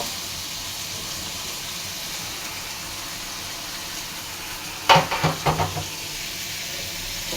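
Garlic, onion and green chilies hit a hot pan, a low steady sizzle running throughout before a short burst of louder crackling and stirring clatter near the end.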